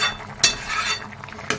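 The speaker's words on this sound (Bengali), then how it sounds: "আর এদিকে শাক ভাজাটা করে নিই।" Leafy greens (saag) frying in a pan are stirred with a utensil, making a short spell of soft sizzling with two quick metallic scrapes against the pan, close and clear, with no talk.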